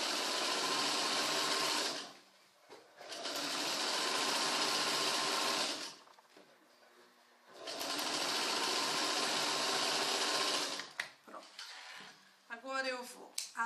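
A sewing machine stitches the side seams of trousers in three long, loud, steady runs separated by short pauses, with fabric handling and a voice speaking near the end.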